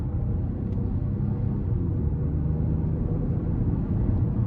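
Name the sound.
2024 Chevy Trax 1.2 turbo 3-cylinder engine revving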